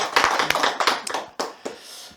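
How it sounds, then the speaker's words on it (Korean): Scattered hand claps from a church congregation, a few sharp close claps in an irregular burst that thins out into isolated claps and fades within two seconds. "우리 옆 사람을 위해서 한번 박수 한번 쳐주세요"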